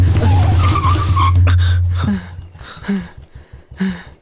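A car skids to a halt with a loud, sustained tire screech and engine roar for about two seconds, then the noise breaks off into short thuds and softer scuffs, up close in a tense movie scene.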